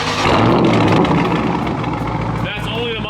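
A Chrysler 300 Scat Pack with a mid muffler delete rumbles loudly up close, a deep throaty engine roar that eases off toward the end, with talk over it.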